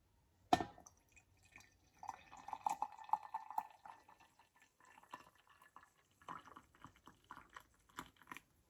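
Coffee pours from a percolator after a sharp clink of the pot, a thin trickling stream filling a cup, quiet and close, with scattered small clinks and drips.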